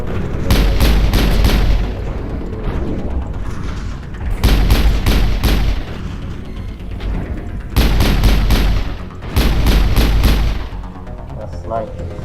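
Heavy sniper rifle shots in the Mass Effect video game come as loud booming bursts in quick clusters, separated by short gaps, with game music and background sound continuing underneath.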